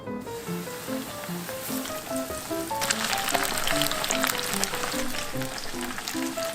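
A whole fish with a swollen, diseased belly fries in hot oil, crackling and sizzling continuously and growing louder partway through, over soft background music.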